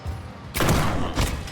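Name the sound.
shotgun firing in the video game Tormented Souls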